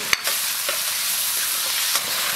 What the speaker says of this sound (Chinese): 锅里少留一点油，把肉末炒一下